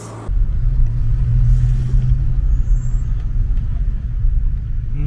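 A Desbravador car rolls over a sharp street speed bump, its engine rumbling loud and close with a heavy low drone that stays steady throughout, no voices.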